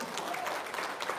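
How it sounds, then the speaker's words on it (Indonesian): A short burst of audience clapping, fairly soft and brief, with a few distinct claps within a smattering of applause from a small gathering. "tepuk tangan dong"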